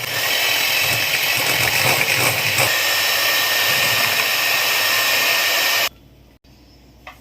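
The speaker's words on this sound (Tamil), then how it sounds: "முட்டை சேர்த்துட்டு ஒரு 5 மினிட்ஸ்க்கு நல்லா பீட் பண்ணிக்கலாம்." An electric beater whirs loudly and steadily through cake batter after eggs are added for a Christmas plum cake, a continuous high motor drone that cuts off abruptly near the end, leaving quiet room noise.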